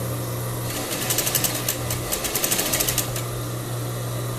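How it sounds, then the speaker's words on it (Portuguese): A sewing machine topstitches crepe bubble fabric for a blouse, a steady motor hum with a quick run of needle clatter in the middle before settling back to a whir. "vou fazer um pesponto aqui nessa parte"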